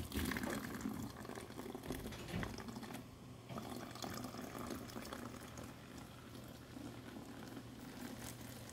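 Carbonated LaCroix sparkling water poured steadily into a glass, a continuous fizzing, splashing pour with faint bubbling that runs for several seconds, fairly close and quiet with no talk.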